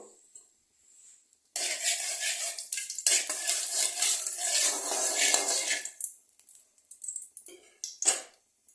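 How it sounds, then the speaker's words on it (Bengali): Cardamom pods, cardamom powder and a small cinnamon stick are stirred in hot oil for chicken biryani: a loud hissing sizzle for several seconds, framed by clinks and scrapes of a utensil on the pan. "এখানে একটু এলাচ গুঁড়ো, এলাচের দানা আর ছোট এলাচের আর একটা ছোট দারচিনি দিয়ে প্রথমে এটাকে একটু নেড়ে নেব"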